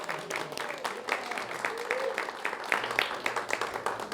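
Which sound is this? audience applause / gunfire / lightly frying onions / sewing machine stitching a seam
audience applause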